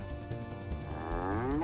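A cartoonish cow moo swells and rises in pitch in the video game Herc's Adventure, heard alone over a bed of game music.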